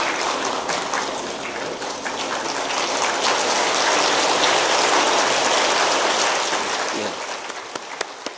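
A church congregation at Sunday worship applauds with sustained, dense clapping that swells and then fades toward the end, with a few voices underneath.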